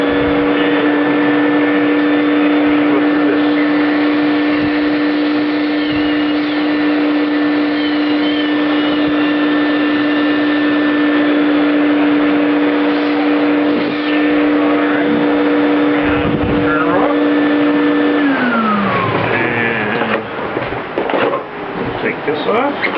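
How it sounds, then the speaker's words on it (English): A shop dust collector fitted with a traffic-cone separator runs with a loud, steady motor roar and a sustained tonal hum, then winds down with a falling pitch near the end. "Now what I'm going to do is I'm going to turn my collector on."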